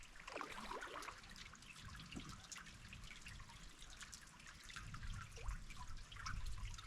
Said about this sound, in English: I would call it a water trickle. It's definitely trickling.